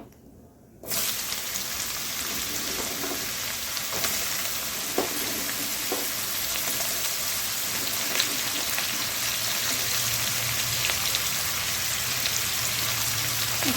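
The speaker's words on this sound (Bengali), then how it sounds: "এখন এই তেলটার মধ্যেই গাজরটি ভাজা নেব" Carrot pieces frying in hot oil in a pan, a loud, steady sizzle that bursts in suddenly after a brief quiet start and continues close up with occasional stirring clicks.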